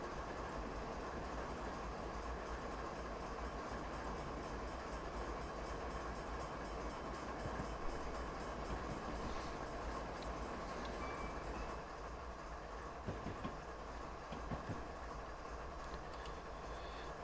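A freight train rolls along the rails in a railroad simulator on the Marias Pass route out of Plum Creek, giving a steady, continuous rumble with faint clicking and a brief tonal blip midway, no talk.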